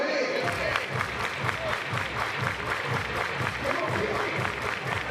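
A college baseball crowd at Clemson, playing Miami, cheers and claps in a rhythmic, sustained roar under a play-by-play announcer's voice.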